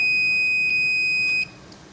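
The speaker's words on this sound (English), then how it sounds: "We'll be using the beep sound." A multimeter on continuity mode, testing a contactor, gives a sustained high-pitched electronic beep that holds steady for about a second and a half, then cuts off abruptly, leaving faint room hiss.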